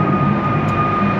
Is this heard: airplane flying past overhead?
yes